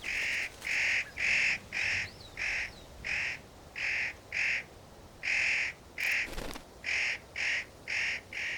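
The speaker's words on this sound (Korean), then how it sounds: "잣까마귀는 대청봉에 털을 잡았습니다." A spotted nutcracker calls on Daecheongbong peak in the mountains, giving a long series of loud, harsh, evenly spaced squawks, each a short rasping burst, close by against quiet background air.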